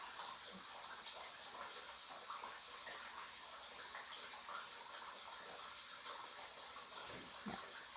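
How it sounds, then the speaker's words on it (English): Tap water running steadily somewhere in the background of a soap-making session, a faint, even hiss that continues unbroken for eight seconds, with no clear speech over it. "I hear the water in the back"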